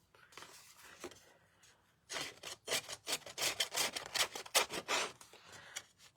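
Paper rubbed over a wooden surface for a weathered, distressed look gives quick bursts of dry scratchy rasping, sparse at first then a fast run of close, repeated strokes.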